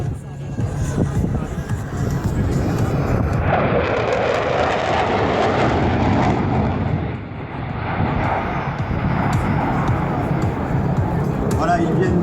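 Ramex Delta military jets pass at about 1100 km/h at the Istres 2016 air show, a loud, sustained roar that swells and holds, with an announcer speaking over it.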